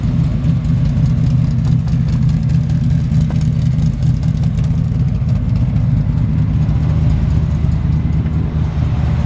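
A 1957 Chevrolet 3100 truck engine idles steadily and close by, a loud, even low rumble with no talking.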